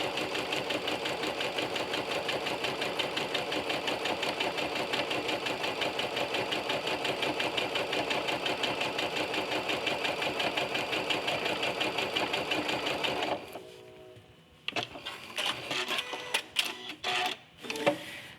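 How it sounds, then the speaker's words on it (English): A sewing machine fitted with a walking foot stitches a quilt, running in a steady, continuous buzz at close range, then stopping and giving way to a few short bursts and clicks near the end. "So my next line of stitching is going to start again in the same direction"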